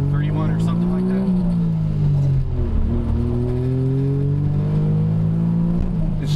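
A Suzuki Cappuccino's small three-cylinder turbo engine revs steadily from inside the car, a rough, throbbing drone rising and falling in pitch across the clip, with people talking over it.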